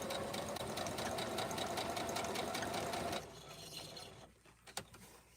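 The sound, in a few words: sewing machine sewing around rag quilt block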